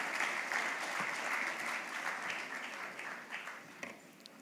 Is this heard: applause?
yes